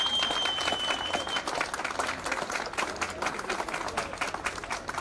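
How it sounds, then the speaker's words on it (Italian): Guests applauding as the bride arrives at a wedding, a dense continuous clapping that stays moderately loud and steady throughout, with a faint voice at the start. "credo che adesso ci sarà l'applauso perché eccola qui."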